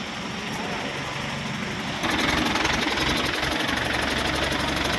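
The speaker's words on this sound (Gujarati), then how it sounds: "હાઇડ્રા આવી ગયો છે, હવે ખાલી કરવાનું ચાલુ છે." A Hydra mobile crane's diesel engine runs steadily while unloading at a company site, a loud, constant rattling drone that grows rougher and stronger partway through, with a low throb underneath.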